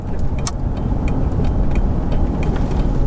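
A Daimler Double Six V12 saloon drives along with a loud, steady low rumble of engine and road noise, with faint ticking and light clicks above it.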